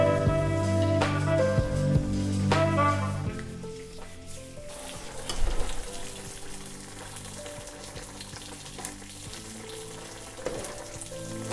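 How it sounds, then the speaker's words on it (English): A mackerel fillet fries skin side down in a pan with a constant close sizzle and crackle. Occasional clinks and stirring sounds rise over it, with some louder spatter midway and no speech. "Put your fish in the skin side for just 4 minutes."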